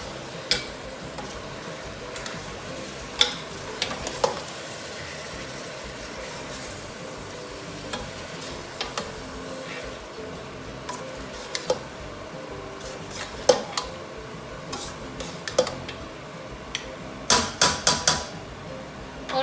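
Masala, chopped tomatoes, coriander and lemon are stirred in a pot for mutton biryani, a spoon scraping and knocking against the metal in irregular taps over a soft sizzle.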